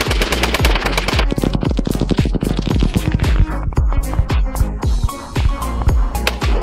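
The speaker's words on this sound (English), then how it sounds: "Armed with rifles, they started shooting while chatting casually" Several people fire rifles at gas tanks outdoors: a loud, rapid, continuous run of sharp gunshots, close by and closely spaced, with no talk.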